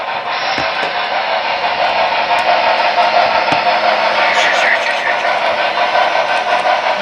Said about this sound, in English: The train's running right through.